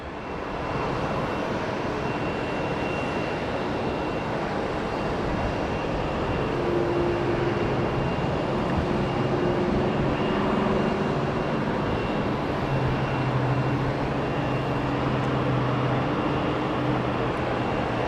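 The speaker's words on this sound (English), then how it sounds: "Come on, 737, take off." A Boeing 737 airliner takes off at Sky Harbor International Airport. Its jet engines produce a steady, broad roar that holds strong and unbroken for the full stretch, with faint tonal whines riding on top.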